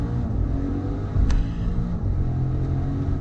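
The twin-turbo V8 of a 2019 Maserati Levante Trofeo rumbles deep and loud under acceleration, a throaty low-pitched drone with a short surge and crackle partway through.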